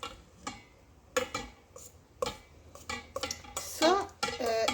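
A spoon stirs and mashes a homemade dish soap mixture with powdered soap, the back of the spoon crushing it in a bowl, giving repeated scraping, clinking knocks in bursts that grow busier toward the end.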